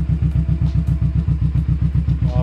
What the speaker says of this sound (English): I've already warmed up my bike, you can tell that's idling where it should be.